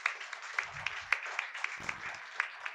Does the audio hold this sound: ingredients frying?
no